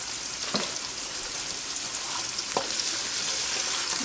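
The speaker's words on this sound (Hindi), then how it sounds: "प्याज को भूनेंगे" Onions fry in a pan for a Gobhi aloo sabzi, a steady close sizzle throughout with two soft stirring scrapes.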